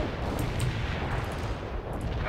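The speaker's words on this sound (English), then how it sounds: "Coordinates hit. Hostile eliminated. Artillery strike on the way." Artillery barrage explosions in the strategy video game World in Conflict, a steady roaring rumble of distant blasts with occasional sharper impacts, loud and continuous with no talking.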